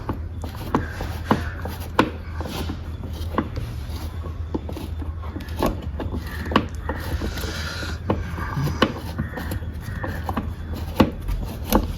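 Star-type screws on a Yamaha R15 v3 motorcycle indicator are worked loose, giving repeated close clicks and scraping ticks at an irregular rhythm over a low steady background hum.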